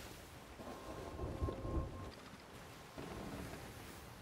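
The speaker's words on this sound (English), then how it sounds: "I want to steer clear of that storm" A thunderstorm at sea in the Sea of Thieves video game, with steady rain and a low rolling rumble of thunder swelling in the middle, heard close and continuous without talk.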